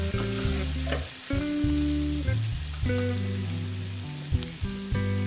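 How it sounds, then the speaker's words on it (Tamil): Ginger sautéing in oil for inji thokku: a steady sizzle with occasional stirring, heard alongside sustained tonal music. "இந்த எண்ணெயிலேயே நல்லா நம்ம வந்து வதக்கிடுவோம்"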